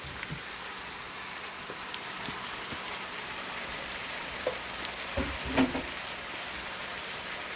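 Shrimp for Jamaican-style peppered shrimp with cayenne fry in a hot pot, giving a steady hissing sizzle broken by a few sharp pops and crackles near the end.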